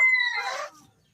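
A single chicken call, a short bright vocal burst that fades quickly into quiet.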